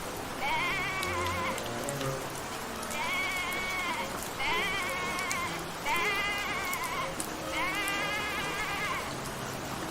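A cartoon sheep bleats five times in a pasture scene, each wavering bleat clear and fairly close, over a steady backdrop of rain and thunderstorm.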